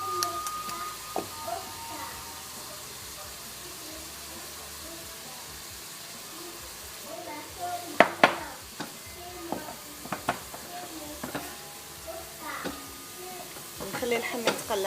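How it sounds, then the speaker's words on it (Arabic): Meat frying in a pan with onions for a Ramadan dish, a steady soft sizzle under intermittent clinks and scrapes of a utensil, with a person talking at times nearby. "نخلي اللحم يتقلى"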